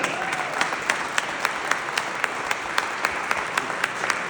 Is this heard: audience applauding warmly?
yes